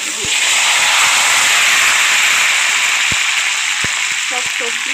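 Loud, steady sizzling of vegetables frying in hot oil, a constant bright hiss with a few faint clinks and thuds.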